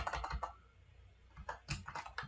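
Typing on a computer keyboard while making a numbered list in Google Docs, with quick bursts of close, soft key clicks, a brief pause, then more taps including presses of the Enter key.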